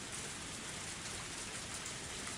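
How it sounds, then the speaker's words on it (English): Heavy rain pours down in a steady, dense hiss in the visual novel Higurashi When They Cry Hou, a continuous downpour heard alone with no voices. "With the downpour soaking through and the shovel in one hand and the riding one-handed"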